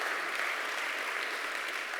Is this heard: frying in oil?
no